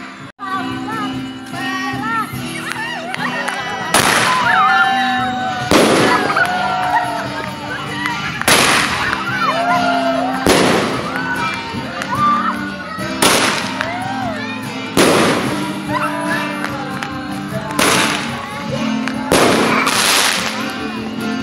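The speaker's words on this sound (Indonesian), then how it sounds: "Petasan tadi udah mulai rame." Firecrackers and fireworks explode during New Year celebrations in Legian, Bali, loud booming blasts about every two seconds, each trailing into crackles, with crowd voices and shrill whistles in between.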